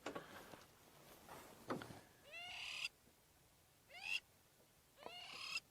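Crowned lapwings on an African sunset safari drive give loud, harsh bursts of rising, strident calls in several separate volleys, close by, with quiet gaps between them.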